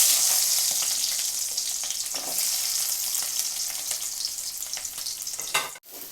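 Whole spices, including fennel seeds, fry in hot oil for a crab masala with a loud, dense, close sizzle that hisses steadily and crackles with a few stirring scrapes, and there is no voice.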